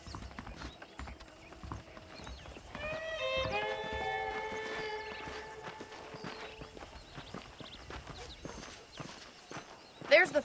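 Horse hooves clip-clopping in a steady walking rhythm while riding in Red Dead Redemption, close and moderately loud, with a brief whinny and someone talking over them.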